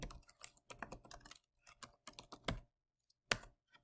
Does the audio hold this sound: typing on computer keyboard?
yes